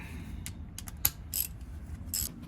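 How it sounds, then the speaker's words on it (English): A wrench works loose a 19 mm oil drain plug on a VW Sharan, giving a handful of sharp metallic clicks and ratcheting scrapes spread over a couple of seconds against a low garage hum. "now I'll drop this plug out next. I'll leave that to drain. 19 mil."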